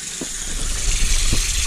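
Water runs steadily from a tap in a half bath after a slab leak repair, a continuous broadband rush and hiss with faint low bumps and no talking.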